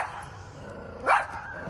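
Maisie, a pet dog on a balcony above a park, lets out a single sharp bark at a dog below, fairly close and clear over quiet outdoor background.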